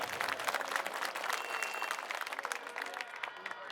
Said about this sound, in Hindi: मैं चाहता हूं जोरदार तालियां उनके लिए एक बार आप लोग बजा दीजिए।